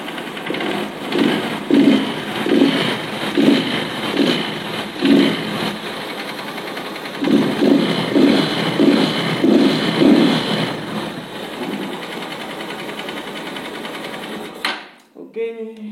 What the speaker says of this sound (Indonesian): Ini suara stang seher.